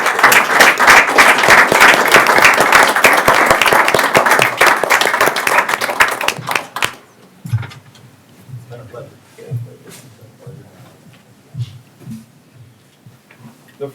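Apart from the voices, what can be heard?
audience applause at a county commission meeting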